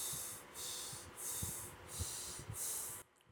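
During yoga practice, close-up nasal breathing comes as a run of about five rhythmic, hissing breaths in and out in quick succession. It is fairly quiet, with no talking, and ends abruptly.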